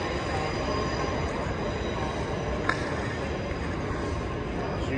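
A train rumbles steadily into a station platform for the service to Falmer near Brighton, a loud continuous roll of wheels on rails with a faint squeal midway.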